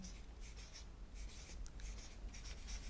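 A marker or chalk strokes across a board while a wave diagram is drawn, faint, close scratchy strokes in short repeated bursts over a quiet room.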